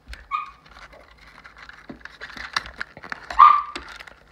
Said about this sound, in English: Sorry about that, my dogs are excited.